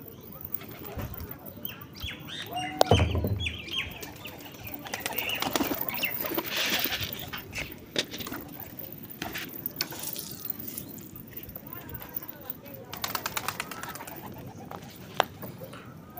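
Pigeons return one by one into their coop during rain, with close bursts of flapping wings, soft cooing and scattered mechanical clicks from the cage over a steady patter of rain.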